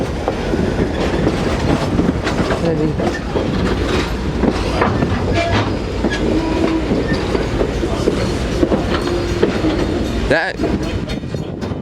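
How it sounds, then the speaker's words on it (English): Railroad coaches roll steadily past at close range with a continuous rumble and rhythmic clickety-clack of wheels over rail joints, a sharper metallic clunk near the end, and voices talking faintly underneath. "Aren't those the Chattanooga choo-choo coaches?"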